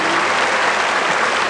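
A large arena crowd at the 1982 world weightlifting championships, superheavyweight class, breaks into dense, sustained applause, close and loud throughout the brief moment.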